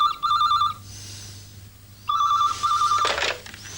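A telephone rings twice in a warbling electronic trill, with a short pause between the two rings. It is close and loud over a quiet room, with a faint rustle near the end.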